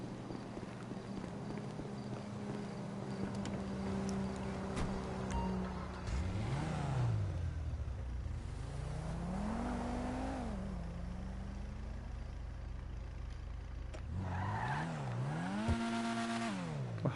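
A Ford Sierra RS in GTA V Online revs and accelerates repeatedly, its engine pitch climbing and falling in several sweeps over a steady background drone, with no talking.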